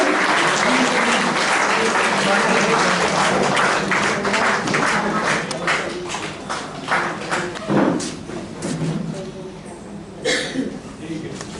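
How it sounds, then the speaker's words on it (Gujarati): A large crowd at a prize-giving ceremony claps loudly and continuously, the applause thinning into scattered claps and a few louder thumps near the end. "જોરદાર તાળીઓથી વધાવી લઈએ"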